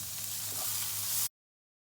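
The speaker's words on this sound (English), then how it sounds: "now we add in our garlic and parsley paste. And we saute that as well." A garlic and parsley paste sautés in a pan with softened onion and peppers, a steady close sizzle that runs unbroken for about a second before cutting off abruptly.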